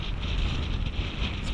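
Strong wind buffets the microphone while cycling, a constant rushing roar across the short stretch with no other sounds.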